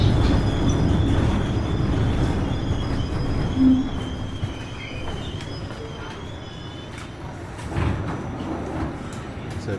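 A New York City subway train rumbles loudly through the busy Union Square station at 14th Street, a continuous roar of wheels and rail noise with faint squeals, heard up close with no talking.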